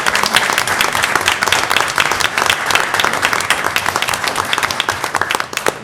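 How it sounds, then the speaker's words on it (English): A room full of attendees at a state board of education meeting breaks into loud, sustained applause, dense overlapping claps that stay steady for several seconds before tapering slightly. "And another round of applause for these."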